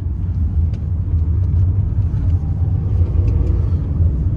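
Maruti Alto K10 small hatchback pulling away in first gear, its engine giving a steady, loud low rumble that holds evenly throughout with no talk over it.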